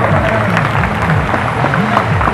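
A crowd applauds at the 15th Bhim Mahotsav festival event, its dense, steady clapping filling the whole stretch while a voice carries over the top.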